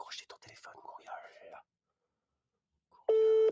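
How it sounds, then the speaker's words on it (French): A steady electronic telephone tone sounds loud and alone at the very end, after a stretch of French talk and a pause, with a short faint blip just before it. "Courriol, est-ce que tu vas décrocher ton téléphone, Courriol?"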